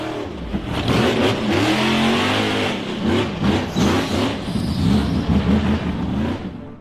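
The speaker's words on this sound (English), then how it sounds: "The gray steel frame buggy accelerated over a gentle slope" Gray steel-frame off-road buggy engine revving hard as it accelerates up a dirt slope during a 4x4 hill climb, loud and close, with a continuous rising and falling roar throughout.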